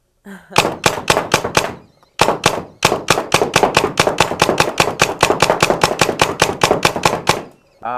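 An air gun shooting at a target, a rapid run of dozens of sharp, evenly spaced cracks in two bursts with a short pause between, loud and close.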